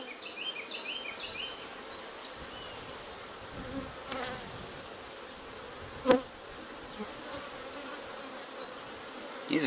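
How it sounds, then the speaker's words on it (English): Honey bees buzz in a steady, soft drone from an opened hive during an inspection, with occasional light knocks and handling sounds nearby. "These are good looking bees."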